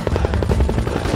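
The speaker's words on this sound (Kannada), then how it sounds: "ಹೆಲಿಕಾಪ್ಟರ್ ಬಂದ್ಬಿಡ್ತು" Helicopter arriving in a Kannada film scene, a loud, close, rapid rotor thump pulsing steadily throughout, no voices.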